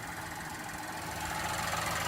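A 2024 Buick Envista engine runs under the open hood after being driven for a while, a steady near hum with fine rapid knocking texture and faint whine, no talk.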